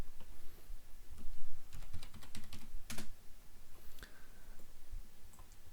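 A password is typed on a computer keyboard in a quiet room. A short burst of close, crisp key clicks comes at an uneven pace, with one sharper tap near the middle, and no voices.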